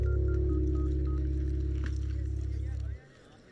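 Telephone dialing tones hum in a loud steady buzz with faint beeps, cutting off abruptly near the end, leaving quiet room noise.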